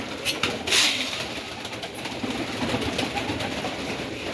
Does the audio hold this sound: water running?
no